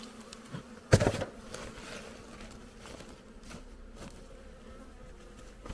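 Caucasian honey bees at a hive being readied for winter, where foulbrood was found, give a faint, steady buzz, with a louder close pass near the start and no voices.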